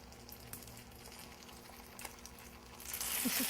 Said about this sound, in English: I'm just going to place them in my brown sugar and butter mixture. And they're already beginning to caramelize